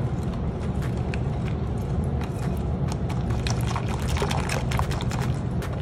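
Lime bar filling poured over a baked crust, a steady continuous wet pouring and trickling sound lasting several seconds, close and even in level with no speech.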